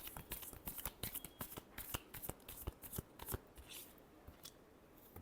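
Tarot cards are riffled and shuffled by hand in quick, crisp flurries of flicking and slapping, close and clear, with no talking over them.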